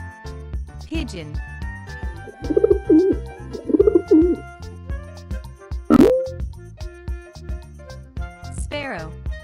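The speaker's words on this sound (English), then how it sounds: "Pigeon." Pigeon cooing in soft, throaty bursts around the middle, mixed with other bird calls and chirps, under a light musical backing with a voice speaking briefly.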